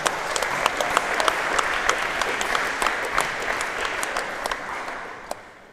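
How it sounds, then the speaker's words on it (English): Crowd at a wallball nationals event applauding, a dense, sustained round of clapping that stays loud and even before tapering off near the end, with no voices standing out. "Big round of applause, please."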